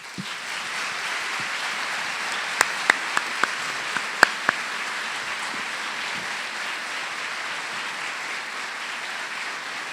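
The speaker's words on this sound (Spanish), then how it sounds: "nos gustaría poder recibirla con un caluroso aplauso" An audience at an evening talk on democracy and protest movements in Rosario gives a soft, sustained round of applause, with a few sharper, closer claps standing out near the middle.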